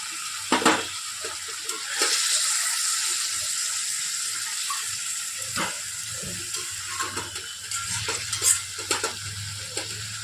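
Mutton and potatoes being stirred and fried for biryani in a pan, with a steady sizzle throughout, a spoon scraping and clinking at irregular intervals, and no talking.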